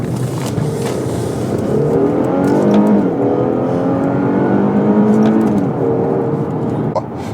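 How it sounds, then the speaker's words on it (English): Infiniti Q60 3.0t AWD with the VR30 twin-turbo V6 accelerating hard toward 60, a loud close engine note climbing steadily in pitch through the gears before easing off at the end. "let's start off with a quick little pull to 60 here"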